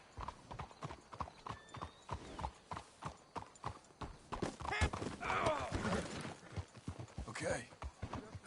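Horse hooves clip-clop in Red Dead Redemption 2, a regular walking rhythm of distinct hoofbeats close by, with voices talking over the middle and a snort or whinny near the end.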